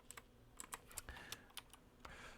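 Keys clack on a laptop computer keyboard in an irregular burst of sharp taps, some louder strikes standing out, close by with a faint background hum and no voices.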